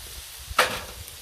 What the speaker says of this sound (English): So, I think I'll squirt some oil on here.